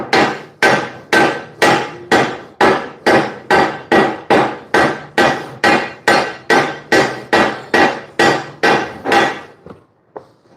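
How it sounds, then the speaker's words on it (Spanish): About eighteen heavy, evenly spaced hammer blows ring out on a freshly welded eye of a Hino 500 truck's main leaf spring, each strike sharp and loud before the pounding stops and it goes quiet. "Los golpes de martillo nos sirven para aliviar un poco la tensión que se produce cuando la soldadura empieza en su proceso de enfriar."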